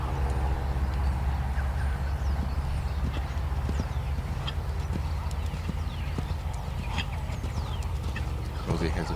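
A horse's hooves clip-clop steadily on an arena surface during dressage riding, an even rhythm under a constant low background rumble, with faint bird calls and a voice.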